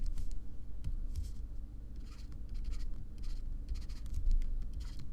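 Handwriting being wiped off a board during a linear algebra lesson, soft scattered rubbing strokes over a steady low background rumble, fairly faint and close.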